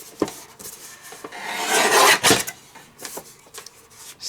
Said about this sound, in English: so I'm just going to keep cutting strips, making them 1/2 inches, taking 1/2 inch at a time